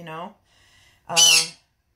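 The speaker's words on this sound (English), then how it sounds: "oh my God, bird" A bird squawks in two harsh bursts, a short nasal call followed by a louder, raspier squawk after a brief pause, close and clear with no talking over it.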